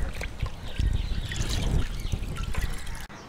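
A cloth bundle of neem seed kernels is squeezed by hand while soaking in about 10 litres of water, giving a continuous close wet sloshing and trickling with soft squelches, and no talk.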